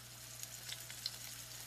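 Chicken scraps sear in a very hot pan with a steady, quiet sizzle and a low background hum, with a few faint pops and no talk.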